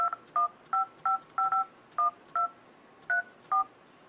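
Phone dialer keypad tones, a string of about eleven short, evenly spaced two-tone beeps, each clear and distinct against a quiet background.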